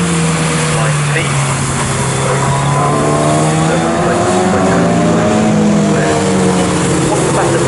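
750MC Bikesports race cars roar past at Snetterton circuit, engine notes rising and falling as several cars pass, with a loud, steady mechanical wash and commentary audible underneath.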